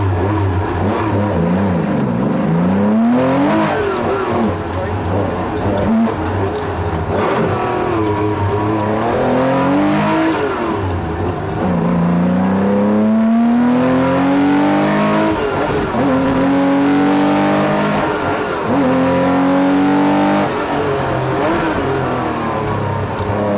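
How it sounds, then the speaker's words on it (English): From inside a 1979 Porsche 911 rally car on a Targa Newfoundland stage, the engine roars loudly and continuously, rising and falling through repeated gear changes with occasional tire noise. "Let's see how this looks from inside car 604, a 1979 Porsche 911"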